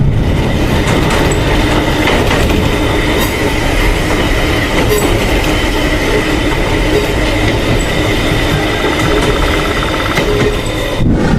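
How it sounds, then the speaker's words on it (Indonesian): A train passes close by on the railway, a loud continuous rumble with rhythmic clickety-clack of wheels over rail joints and faint metallic squeal, steady throughout with no talk. "bentar lagi juga kereta terakhir lewat"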